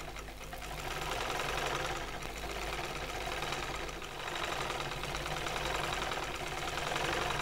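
A sewing machine stitches a salwar, running steadily and continuously at an even pace with a close, buzzing mechanical drone, alone with no talk.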